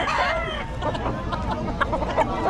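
Chickens at a four-house poultry farm in Bocaue cluck and squawk steadily and close by, a dense flock chorus with occasional louder calls over a constant low background hum.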